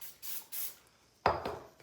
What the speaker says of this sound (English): spray my hands